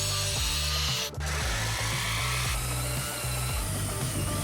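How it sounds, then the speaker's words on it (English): An angle grinder cuts through 1/4-inch aluminum plate, giving a steady, loud, close-up whine with a brief dip in the middle and a dense rattling grind beneath, heard alone. "I cut and shaped each one out of a 1/4-inch aluminum plate using an angle grinder."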